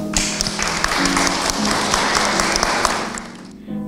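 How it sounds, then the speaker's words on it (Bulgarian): A crowd at a gallery award ceremony applauds with dense, steady clapping that fades out at the end. "Аплодисменти за тях!"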